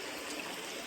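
River water flowing at a crossing in the Sipsey Wilderness, a continuous faint hiss of running current, steady and unbroken for a brief moment.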